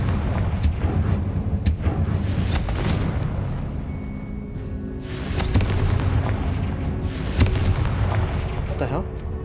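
Repeated Confringo fire-bolt spell explosions boom one after another in the Hogwarts Legacy video game, loud and rumbling throughout, with a voice occasionally speaking over the blasts.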